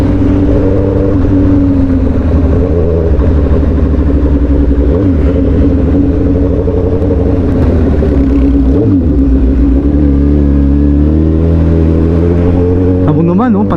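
A Suzuki GSX-S1000 sport motorcycle engine drones loudly and steadily while riding on a road in Batangas, Philippines, its pitch rising and falling with the throttle.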